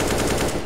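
A short, loud burst of rapid automatic gunfire from a shooting video game, with shots tightly packed in a quick rattle.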